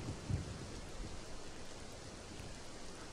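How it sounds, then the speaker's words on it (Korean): Steady rain hisses throughout in a Roblox camping game, with a low rumble of thunder near the start, all heard without any talking. "무슨 비가 맨날 와."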